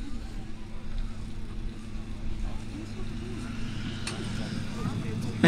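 A Falke motor glider engine drones steadily with a low rumble and wind noise during takeoff at about 50 mph, and a person talks over it throughout.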